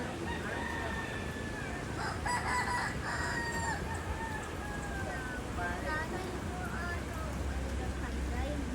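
Chickens cluck and call in the background, with a rooster crowing briefly, under steady outdoor noise and a person talking.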